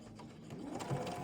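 A sewing machine stitches fabric squares for a table runner, a steady close mechanical hum and whir throughout a short stretch.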